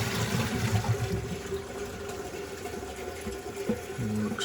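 A newly refitted toilet pan flushing, water rushing and gurgling steadily through the bowl for several seconds at close range, with no one talking.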